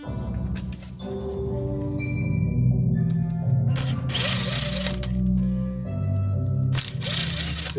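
A 2.5 millimeter driver backs screws out of the motor bracket on a 450-size RC helicopter, giving close, faint clicking and ratcheting mechanical sounds over a low steady background hum, with no talk.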